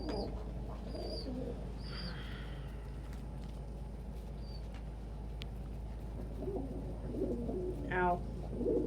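Pet pigeons in a loft with more cocks than hens coo in soft, low bursts, alongside a few high chirps and light rustling, fairly quiet and close; a brief louder call comes near the end.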